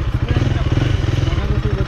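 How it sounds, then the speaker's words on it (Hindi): Motorcycle ridden with a newly fitted sprocket replacing a stock one, its engine a steady, close, low throbbing drone with a fast pulsing beat throughout and a light rattle riding on top. "तो लेट्स सी कि अभी कैसे चल रही है बाइक"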